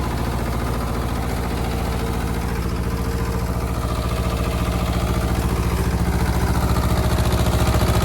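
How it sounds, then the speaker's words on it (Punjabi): A Sonalika 30 HP power-steering tractor engine idles steadily up close, a continuous low, chugging rumble with even vibration throughout and no voices. "ਟਰੈਕਟਰ ਨੂੰ ਬਿਲਕੁਲ ਆਰਾਮ ਨਾਲ ਚੱਲ ਰਿਹਾ ਹੈ ਟਰੈਕਟਰ"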